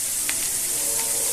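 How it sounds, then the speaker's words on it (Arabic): Potatoes frying in a shallow layer of hot oil, a steady close sizzle with faint crackles and no talking. "هناخد البطاطس بتاعتنا ونحمرها كده في الزيت عادي جدا"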